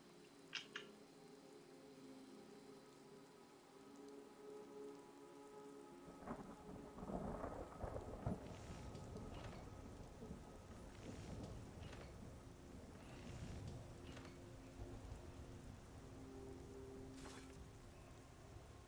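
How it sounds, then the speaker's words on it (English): Rain falls steadily in the video game Skyrim, a soft hiss with patters of drops, until a deep rolling thunderclap breaks in partway through and rumbles on for several seconds before fading under the ongoing downpour. "And it's still raining."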